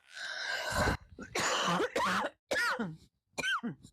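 A person coughs repeatedly in harsh, close bursts, four fits separated by brief pauses, loud and raspy.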